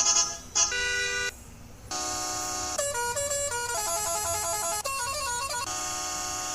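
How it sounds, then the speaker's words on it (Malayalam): A custom musical horn on a Toyota Fortuner in the Indian Theft Auto video game plays a series of bright tonal blasts and melodic note patterns, loud and close, with brief gaps between phrases. "ഈ ഒരു ഹോൺ വയ്ക്കാം."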